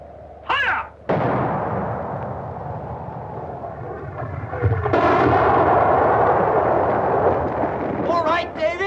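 Artillery fires in a 1950 World War II film, heavy booming blasts and a long rumbling roll close by, with brief shouted voices between the shots.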